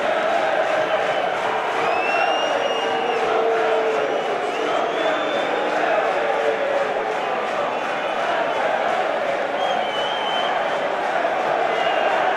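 Football crowd at a League One match between Luton Town and Plymouth Argyle, travelling Plymouth fans applauding and cheering as a former Watford player and manager heads down the tunnel; a steady, dense wash of stadium noise with faint whistles throughout.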